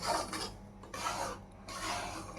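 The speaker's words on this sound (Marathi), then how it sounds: "तर सगळा असा हलवून चांगला ढवळत राहायचं करंजीचा रवा आहे ना चांगला भाजून घ्यायचा" Semolina for karanji being roasted and stirred in a pan gives dry, raspy scraping in three steady bursts separated by brief lulls, close and fairly quiet with no talk.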